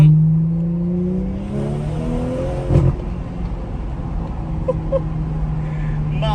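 A car engine revs hard with a steady drone, then backs off into crackling, popping exhaust burble; loud and close, heard from inside the car.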